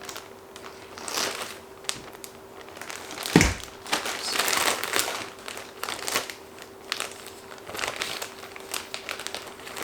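Skeins of yarn being stuffed into a crinkly plastic bag, irregular rustling and crackling bursts with one sharper rustle near the middle, close and fairly quiet.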